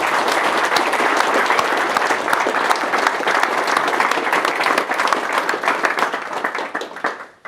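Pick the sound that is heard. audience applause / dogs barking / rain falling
audience applause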